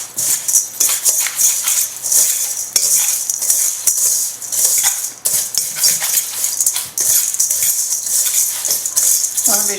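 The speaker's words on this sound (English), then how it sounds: "at this point we just stir those up a little bit" Salt and chopped walnuts are stirred into an apple breakfast bar mixture in a bowl, with close, busy scraping and clinking of a utensil against the dish, continuous with brief pauses.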